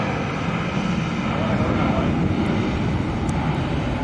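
Hawaiian Airlines airliner arriving at Sky Harbor airport, a steady broadband engine roar holding even throughout with voices talking over it.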